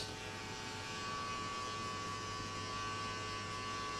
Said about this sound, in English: Sometimes you have to close the clipper a little bit.